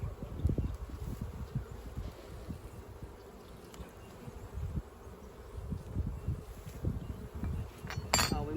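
Honey bees buzz around an opened Kenyan top-bar hive during a varroa inspection, a close, uneven drone of many wings that swells and fades, with occasional rustling and light knocks of handling.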